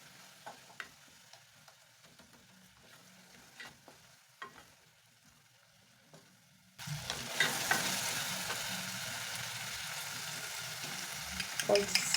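Tomatoes with turmeric, paprika, black pepper and salt stirred in a pot for fish stew: quiet faint scrapes at first, then a louder steady sizzling stir with occasional clinks through the second half.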